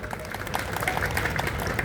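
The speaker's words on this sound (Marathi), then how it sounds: "करा की टाळ्या जरा त्या पोरासाठी." An audience claps for a wrestler at a village kusti akhada in Pune, the applause steady and crowd-wide across the clip, with crowd noise mixed in.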